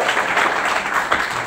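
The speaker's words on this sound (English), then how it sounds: "let's give ourselves a round of applause" A Startup Grind Cape Town audience breaks into a brief, steady burst of close, full-room clapping.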